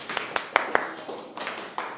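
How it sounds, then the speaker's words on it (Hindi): Several sharp, separate claps in a chemistry classroom, a few loud hits spaced unevenly and then a softer scatter, sounding like a small group clapping briefly rather than full applause. "डाल्टन के लिए ताली"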